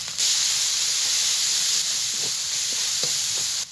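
Ginger and onion paste hits a hot pan with a sudden, loud hissing sizzle that starts almost at once, holds steady for several seconds with a few small crackles, then cuts off.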